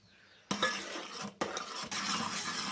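A spoon stirs milk with china grass heating in a pot, scraping and clinking against the metal in a few strokes separated by short pauses, close and moderately loud.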